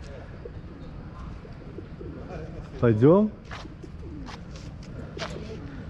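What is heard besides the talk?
pigeons cooing in Dubrovnik old town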